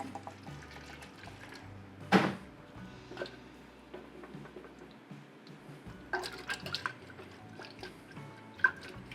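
Water from a 16-ounce measure is poured into a container of Propper Starter wort for a yeast starter, heard as a faint, uneven dribbling and splashing with a few louder bursts in a quiet room.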